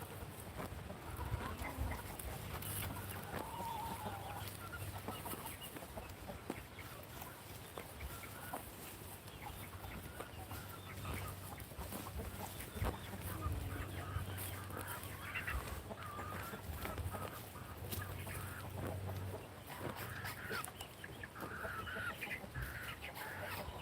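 Roosters being kept for harvest on a small farm cluck throughout, with some soft, near calls and some more distant ones over steady outdoor background noise, and a voice is faintly present at times.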